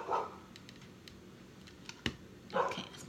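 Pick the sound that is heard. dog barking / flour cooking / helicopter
dog barking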